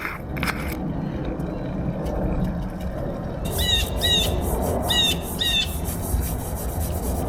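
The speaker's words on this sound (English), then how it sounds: "I think blue jays have the ugliest call of any bird." Harsh, raspy blue jay calls ring out outdoors in a quick run of repeated bursts partway through, over a steady outdoor backdrop with scraping noises.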